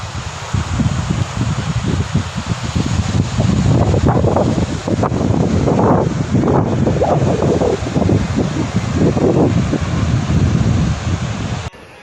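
Sea waves and strong wind at a beach at Hawks Nest form a loud, steady roar with wind buffeting the microphone throughout, and no talk is heard.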